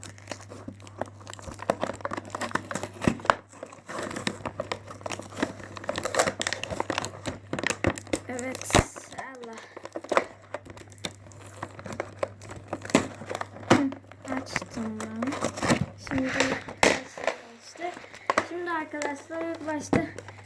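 Steady crinkling and tearing of a plastic package being opened close by, with scattered rustles and people talking throughout.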